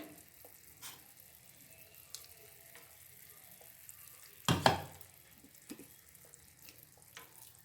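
Ground puffed rice paste hits boiling ghee for a homemade halwa. Mostly quiet small clinks, then one sudden loud sizzling burst near the middle that fades quickly back to faint crackles.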